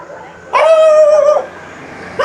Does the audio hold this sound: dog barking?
yes